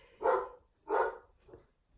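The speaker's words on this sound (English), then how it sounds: "doggy's barking a lot" A dog indoors barks three times, two full, fairly strong barks followed by a softer, shorter one, heard at moderate distance against a quiet background.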